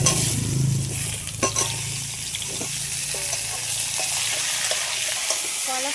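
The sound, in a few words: banana and potato pieces frying lightly in oil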